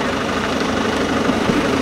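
A camper's steady engine idles nearby in a hiking car park with a low, even rumble and faint vibration, unchanging throughout.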